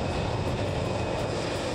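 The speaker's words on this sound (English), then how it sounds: "This beach bar is located right next to the airport, and you'd think that the planes are a big distraction." A loud, broadband roar of an airplane at St. Maarten airport, taking off or landing right beside a beach bar, sustained and close throughout with no talk.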